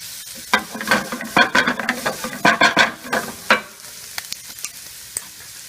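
Potatoes and onions sizzle in a pan as they are stirred, with scraping stir strokes over a soft frying hiss, close and fading toward the end.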